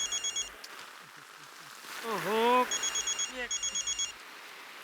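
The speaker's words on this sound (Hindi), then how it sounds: "फोन की घंटी बज रही है" An old-style telephone bell rings in repeated short bursts, pausing while a voice exclaims briefly, then ringing again in several quick trills.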